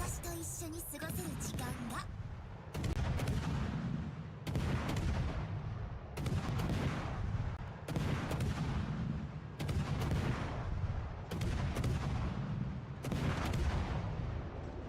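Double-mounted naval guns on a warship in World of Warships Legends fire in regular booming salvos, roughly every one and a half seconds, each a heavy blast with a decaying rumble.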